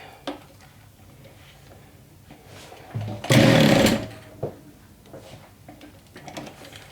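A sewing machine stitches a diagonal seam on a crossbody bag in one brief, loud whirring run, with soft handling clicks before and after.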